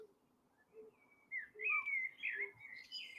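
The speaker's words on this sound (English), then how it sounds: "sound of the birds in the trees" Birds chirp faintly in forest trees, a few soft high whistling calls and short tweets close together over a quiet, still background.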